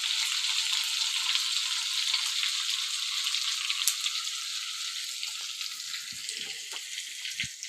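Cumin and mustard seeds fry in hot oil with a steady, bright sizzle that fades gently, while faint stirring knocks come through toward the end.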